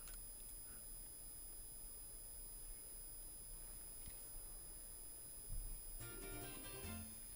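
In Pokémon Legends: Arceus, a dropped smartphone gives off a quiet, steady electronic tone, then a brief flurry of beeps near the end. The sound is faint and plays alone, with no voices.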